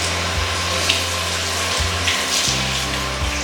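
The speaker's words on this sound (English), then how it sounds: "let me wash my hands real quick again" Tap water runs steadily into a kitchen sink during a hand wash while cooking lasagna soup, a continuous close hiss with faint splashing and no talk.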